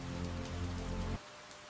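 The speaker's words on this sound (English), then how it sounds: "Rain changes the rhythm outside, but inside the hollow," Rain falls steadily outside a scarlet macaw's nest hollow, a dense even patter that cuts out abruptly partway through and leaves a faint hiss behind.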